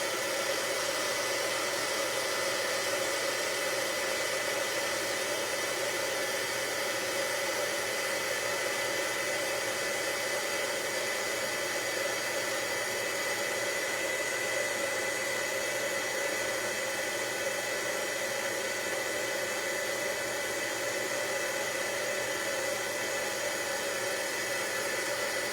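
Electric heat tool for embossing powder, warming up with a steady, loud, continuous blowing whir that holds unchanged throughout, no talking.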